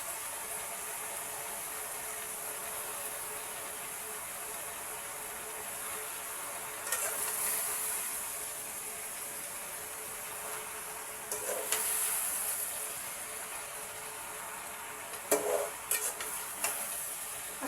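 Spinach sizzles faintly and steadily in a frying pan, broken by three or four brief scraping stirs of a spatula, with no talking.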